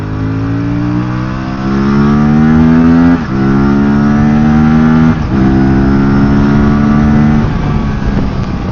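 An Aprilia RS 457 motorcycle engine accelerating hard through the gears, a loud rising whine that climbs, dips at each shift around three and five seconds, then climbs again, close and continuous with no talk.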